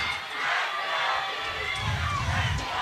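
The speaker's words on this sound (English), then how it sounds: "And the Tigers crowd now getting into it for their defense." Home crowd at a high school football game cheering and shouting for its defense, a sustained roar of many voices swelling toward the end, with an announcer talking over it.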